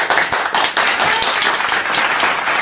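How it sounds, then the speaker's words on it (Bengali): A group of people clapping together at a small prize-giving after a candle-lighting competition game, a dense, uneven burst of hand claps close by that carries on steadily throughout. "সবাই হাততালি দাও।"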